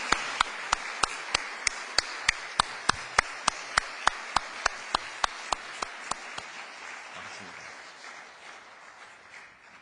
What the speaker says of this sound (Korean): 우리 박수 한번 뜨겁게 우리 어머니들을 향해 올려주세요.